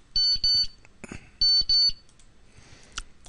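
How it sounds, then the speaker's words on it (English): A SMART Board's built-in countdown timer sounds its alarm: two bursts of paired electronic beeps, a short pause, then two more paired beeps, loud and clean over a quiet room. "built-in timer right on your smart board"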